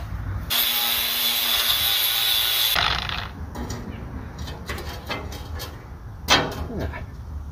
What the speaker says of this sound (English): we gotta smooth out one of these old welds